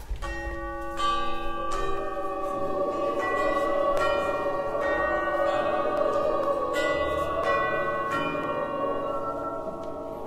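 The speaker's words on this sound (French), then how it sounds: "Dehors, le vent de la nuit soufflait en éparpillant la musique des cloches." Church bells ring with long, overlapping tones that swell and linger, a rich metallic chime carrying steadily with no voices.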